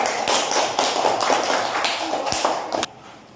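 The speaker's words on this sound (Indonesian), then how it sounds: "kasih tepuk tangan" A small group gives applause in a school teacher-supervision session, with a dense patter of claps and a few sharper accents for about three seconds before it tapers off.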